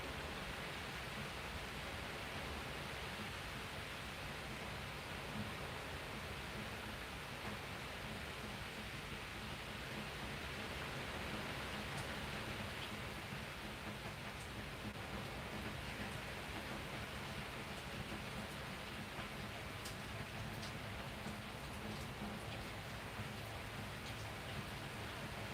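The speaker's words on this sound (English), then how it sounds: "You guys hear the rain and stuff?" Rain falls outside as a steady, dense hiss of drops, faint and unchanging throughout with no other sounds.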